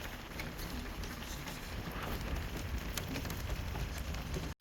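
Constant dense hiss of rain pattering on a surface during a gravel cycling marathon, unbroken throughout and fairly loud, with no voices, cutting off abruptly at the end.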